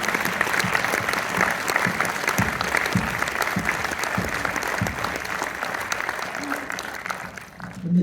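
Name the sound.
audience applause at a film premiere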